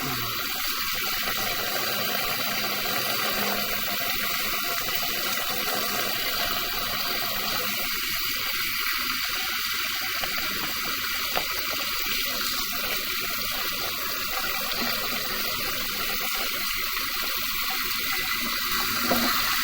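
Water drains through a pipe with a constant rushing, gurgling flow, close and steady, with no break in the noise over the whole stretch.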